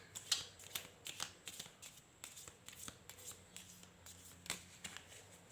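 Tarot cards being shuffled by hand, a run of soft, papery riffles and taps repeating in quick bursts at close range with no talking.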